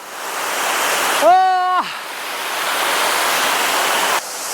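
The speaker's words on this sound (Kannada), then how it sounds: "ಇಲ್ಲಿ ನೋಡ್ರಿ ಇನ್ನೊಂದು ಫಾಲ್ಸ್ ಸಿಕ್ತು" Hosadevata waterfall near Gokarna pours in a loud, steady broadband rush of falling water close by, with a brief tonal voice-like call rising over it.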